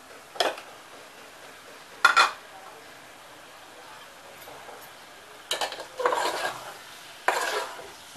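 A spoon scrapes and stirs goat heart with onion, tomato and spices in a pan, in a few separate bursts of scraping against the metal, with quiet gaps between strokes.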